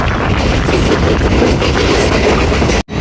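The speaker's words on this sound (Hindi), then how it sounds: "हसन अब्दाल रेलवे स्टेशन पे अप्रोच बना रही है 14 डाउन अवाम एक्सप्रेस" The 14 Down Awam Express passenger train runs close and loud near Hasan Abdal railway station, a steady rumble with rhythmic clickety-clack of wheels that cuts off abruptly near the end.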